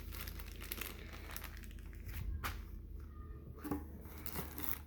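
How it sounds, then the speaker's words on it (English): A plastic bag holding turbo parts, including studs and pipes, is opened up close with faint, scattered crinkling and rustling. No one speaks. "So the bag popped open."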